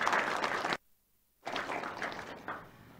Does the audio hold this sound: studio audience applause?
yes